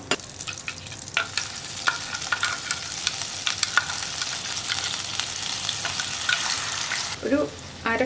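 Steady crackling sizzle of hot oil with a wet rush as a ground curry paste is poured in, close and continuous, a brief clatter near the end.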